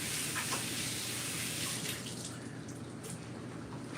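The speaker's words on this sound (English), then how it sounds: "Let me wash my hands." A kitchen faucet pours a steady stream of water for hand washing, a close, even rushing hiss with faint splashes and no voices.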